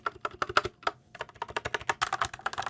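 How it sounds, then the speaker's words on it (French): A high-end mechanical keyboard with lubricated switches being typed on: a steady run of quick, fairly loud keystrokes close up, with no voices. "je vous fais tout de suite écouter le bruit"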